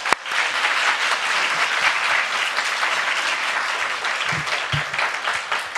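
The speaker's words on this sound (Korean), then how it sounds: "우리 목사님 나오실 때 따뜻한 환영의 박수 부탁드리겠습니다." A Korean-language Sunday service congregation gives a warm round of applause as the pastor comes forward, a loud, sustained and even stream of many hands clapping, with a few louder claps near the end.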